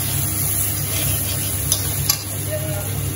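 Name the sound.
red chili frying and sizzling in a pan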